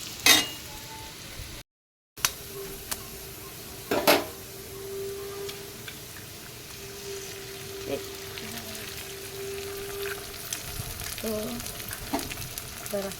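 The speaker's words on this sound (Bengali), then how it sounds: "এখানে আমি আলুটা ভেজে নিচ্ছি" Potatoes fry in a pan with a steady, faint crackling sizzle that runs throughout, broken by a few sharp clinks of a utensil against the pan and a short dropout; no one speaks.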